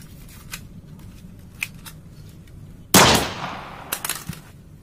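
A single sharp gunshot cracks loud and close, its blast decaying over about a second, with scattered small clicks and taps before and after.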